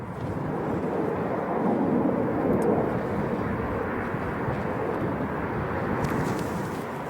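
An Iberia long-range jet taking off at Chicago O'Hare at sunset, a broad distant roar of jet engines rumbling steadily with wind noise, heard outdoors without talk.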